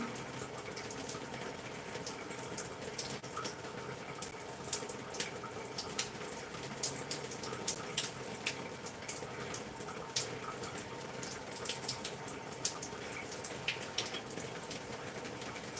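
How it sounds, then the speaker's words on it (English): Water poured and running during a hair wash on wash day, a steady gushing flow that carries on the whole time at moderate level, with no voices. "get some water in here"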